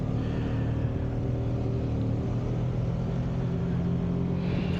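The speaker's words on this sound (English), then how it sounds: "Look at all that traffic." Steady road traffic rumbles past at rush hour, a continuous low drone of car engines and tires that stays fairly loud and even, with no voices over it.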